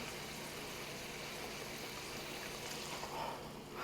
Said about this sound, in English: we're going to go with about a quarter of a cup of beef broth to add some moisture